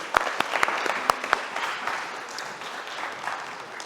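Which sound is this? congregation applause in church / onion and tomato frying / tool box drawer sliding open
congregation applause in church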